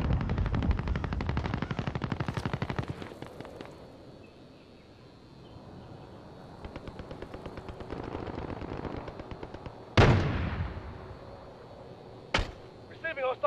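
Rapid hostile machine-gun fire in Call of Duty: Modern Warfare, loud and sustained at first, then sporadic bursts, with sharp single shots near the end and game voice callouts mixed in.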